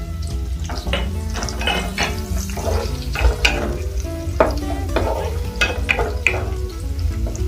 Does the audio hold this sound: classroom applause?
no